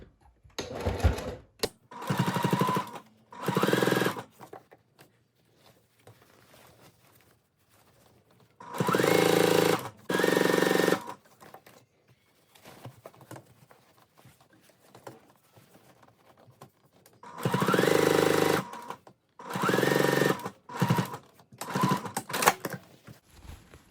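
A sewing machine stitches the waistband seam of a pair of shorts with a 1/8 inch presser foot, running in several loud bursts of rapid whirring with quiet pauses between them.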